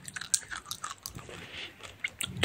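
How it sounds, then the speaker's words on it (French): Someone bites and chews homemade Dubai chocolate with a crispy filling, giving close, irregular crunches and smacking chews, sharp little clicks scattered through a couple of seconds, no talk. "Je suis en train de manger du chocolat de Dubaï maison"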